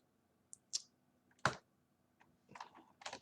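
A few scattered keystrokes on a computer keyboard while entering a Linux command: isolated clicks, then a short burst of quicker taps near the end, close by and fairly quiet, with no talking.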